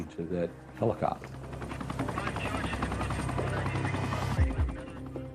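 Helicopter rotor blades running nearby, a steady loud chopping drone that fills the whole stretch, with a few thuds near the start and a brief low rumble near the end.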